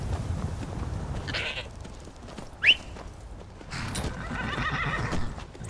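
A horse in the video game Skyrim whinnies in a short sharp burst mid-way, with soft hoof clip-clops and light ambient game sounds before and after.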